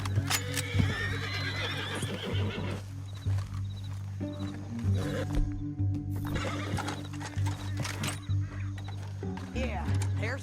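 In Red Dead Redemption 2, a horse whinnies and snorts while hooves clip-clop, set against a steady low rumble of game sound with talk running throughout.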